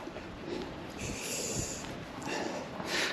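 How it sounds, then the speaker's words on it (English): Dog sniffing the ground on a morning walk around a campsite, a few close, breathy snorts and snuffles over faint outdoor background noise. "she's at her usual place where she'll have a sniff and she'll have a wee"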